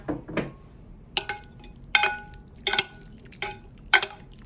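Mangosteen being tossed with soy sauce in a pan gives a series of about six sharp clinks and scrapes of utensil against metal, spaced roughly evenly and heard close up without talk.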